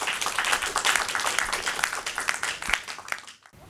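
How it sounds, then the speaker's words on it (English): An audience at a symposium gives steady applause after the speakers' talks, a dense mass of clapping that holds briefly and then fades out abruptly. "let's give a round of applause to our speakers"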